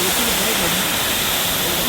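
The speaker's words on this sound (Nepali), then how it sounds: "झरना यहाँ आयो दिस इज झरना" A waterfall reached on a New Year outing, a loud, dense, unbroken roar of rushing water up close, with voices faintly mixed in beneath.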